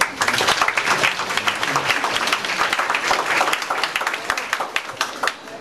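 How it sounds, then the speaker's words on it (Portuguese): A room full of people claps for a speaker at a civic event, a dense and lively applause with some sharp, distinct claps standing out, holding steady for several seconds. "uma salva de palmas também"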